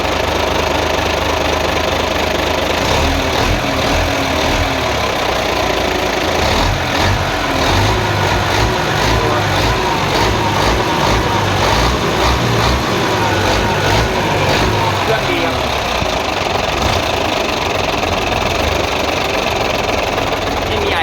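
A Rocky truck's 270-horsepower diesel engine idles smoothly and steadily, loud and close, with an even rumble and light knocking that lasts throughout.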